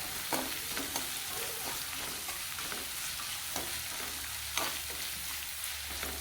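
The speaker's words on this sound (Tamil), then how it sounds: "வெங்காயம் சேர்த்துக்கோங்க மஞ்சள் பொடி சேர்த்துக்கோங்க சேர்த்துக்கோங்க நல்லா கிண்டி விட்டுக்கோங்க" Onions and turmeric frying in a pan for a hotel-style veg kurma, loud continuous sizzle with regular stirring scrapes throughout, no voices.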